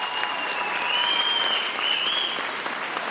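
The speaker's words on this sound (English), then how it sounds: "Let's give him another round of applause," A graduation ceremony audience claps warmly in a large hall, a dense, sustained wash of applause from many hands that holds steady for several seconds, with faint cheers or whistles rising above it.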